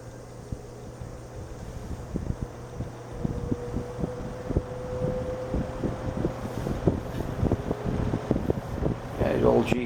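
A vintage General Electric 20 inch rollabout box fan starts up on low, giving a steady low motor hum with a rhythmic ticking. Someone talks over it close by.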